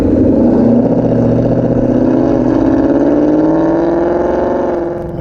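A 2018-2023 Ford Mustang GT with a Borla Extreme aftermarket exhaust, its V8 loud and close, with a deep burbling drone that climbs steadily in pitch as the revs rise, then eases off at the end.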